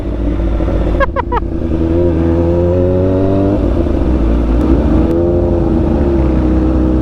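Road traffic in Dagupan heard from a motorbike on a short ride: a loud, steady engine drone sits close to the mic throughout, with a rising rev early on and brief higher clatter from passing vehicles.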